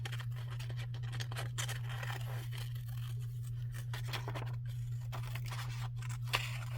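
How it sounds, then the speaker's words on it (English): Large scissors snip through postcards, giving repeated crisp cuts and scratchy paper rasps spread irregularly across the span, fairly close and quiet, over a constant low electrical hum. "Using my big scissors."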